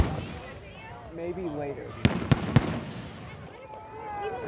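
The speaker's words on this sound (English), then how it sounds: "Hello there, firework!" Canada Day fireworks burst in three sharp, close booms in quick succession, set against crowd chatter and nearby talking voices.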